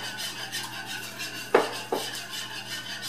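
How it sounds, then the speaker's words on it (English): Ground turkey gravy for shepherd's pie being stirred in a pan: quiet rhythmic scraping with two sharper clinks of a utensil against the pan, close and soft with no talk. "So I am going to be constantly stirring this"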